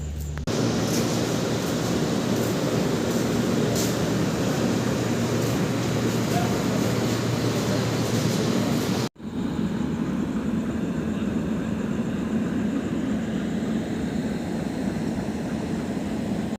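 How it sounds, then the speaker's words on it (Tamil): A steady, loud rumble of the Yelagiri Express train rolling into a station, broadband noise that drops out briefly and resumes with lower, grinding rail and wheel sounds. "நம்ம ட்ரெயின் வந்தாச்சுங்க"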